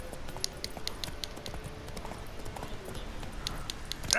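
Hooves of Roach, the horse in The Witcher 3: Wild Hunt, clop steadily and quickly on a steep climb, a fairly quiet, even gait running throughout over a faint ambient background.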